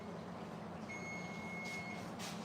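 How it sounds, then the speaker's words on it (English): Electronic timer beeps sound in a home kitchen while food air-fries, a steady high tone holding about a second over a constant low appliance hum, with no talk. "What's that beeping for?"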